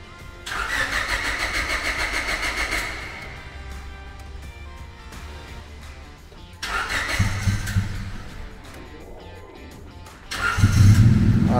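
A worn-out Honda Civic engine in a training workshop cranks and catches in repeated start attempts, rumbling up loudly near the end with a rising roar.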